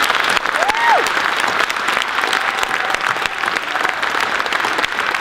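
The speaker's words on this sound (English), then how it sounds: "So let's welcome the panel with a round of applause" Audience applause welcoming a panel onto the stage at an annual meeting, dense steady clapping filling the room throughout, with a brief whoop or voice rising over it early on.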